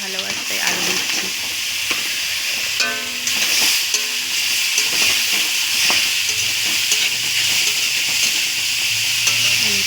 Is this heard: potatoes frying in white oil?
yes